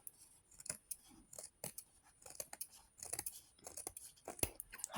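Scissors cutting fabric along the full length of a drawstring pouch, a series of crisp, close snips arriving in irregular bursts with short pauses between.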